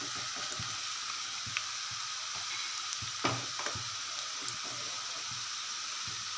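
Homemade hair oil mixture bubbles and sizzles steadily in a pan over high heat, a constant crackling hiss with occasional small pops and a faint clink, no voices.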